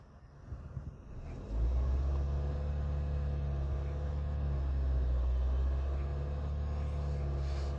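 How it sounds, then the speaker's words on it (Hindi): A car engine idles, then revs once and holds at raised, steady RPM during throttle sensor diagnostics, a loud, close, continuous rumble with no talk. "ओके रेव दियो एक बार हल्की भी"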